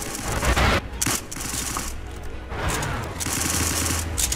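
Rapid automatic gunfire from a gun in a video game, loud dense bursts of shots with short gaps between volleys and no voices.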